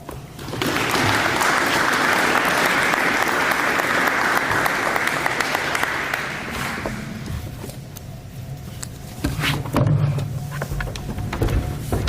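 An audience at a federal government announcement on a New Brunswick nuclear energy project claps loudly and steadily for about six seconds, then the applause thins out and scattered claps and room noise remain.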